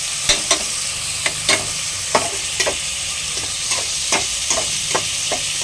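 Raw prawns fry with mint in a hot pan, a continuous loud sizzle broken by regular scraping spatula strokes about every half second, close up and without talk.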